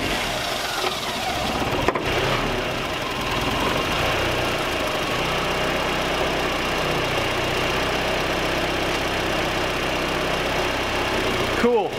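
A 1990-2005 Mazda Miata engine, checked for low oil pressure, runs at a steady close idle throughout after starting, with a faint brief clunk near the start and end.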